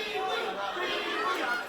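A wrestling video game arena crowd jeering the champion, a continuous dense roar of many voices swelling and dipping at steady loudness, with no clear single speaker.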